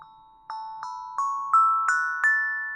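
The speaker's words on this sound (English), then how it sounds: "And I've got this drum and it sounds like this." Hand drum struck with a mallet, seven clear ringing tonal strikes spaced evenly and stepping upward in pitch, each with a bell-like sustain, clean and alone in a quiet room.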